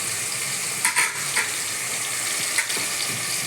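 Rice and chicken frying in a pan, a steady broad sizzle with a few brief stirring clatters, close and moderately loud, with no talking.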